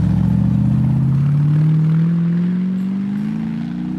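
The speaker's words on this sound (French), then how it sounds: "je sais pas si vous entendez le moteur de dingue, le caractère de fou qu'il a sur son 4x4" A deep, rumbling Corvette LS V8 engine swapped into a Jeep revs steadily up in pitch with a throaty, lumpy idle character, close and loud throughout.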